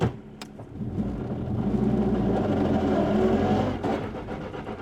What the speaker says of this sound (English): when you really get on it and hit high RPM shifts, whoo, guarantee anyone who hears this car is gonna think it's broken